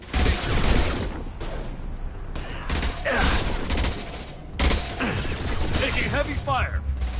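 Sustained weapon fire in the video game Mass Effect 2, with layered bursts, mechanical clatter and impacts filling the whole stretch at high loudness, and game voices talking over the combat.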